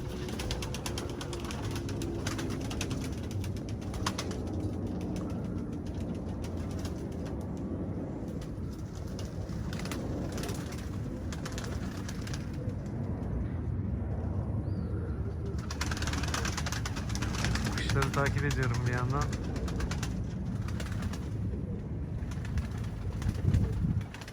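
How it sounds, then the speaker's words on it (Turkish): Pigeons in a panic fill the air with continuous cooing and wing flapping under a steady outdoor background, with no voices. "Kuşlar da panik oldular"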